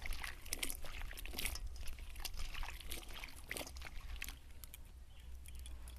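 Cut raw mangoes being rinsed in clean water, with steady pouring and trickling water and soft sloshing and splashes throughout, close and moderately loud over a low background hum.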